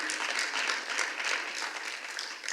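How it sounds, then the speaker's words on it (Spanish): A church congregation claps during a sermon, a short, fairly quiet patter of applause with no talk over it. "No sé por qué aplaudes, pero si aplaudes, aquí se aplaude para Cristo"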